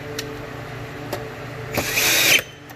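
Power tool driving two 10mm screws into a thermostat housing on a 2012 Jeep Wrangler, a short whirring burst near the end over a low background hum, with a few faint clicks before it.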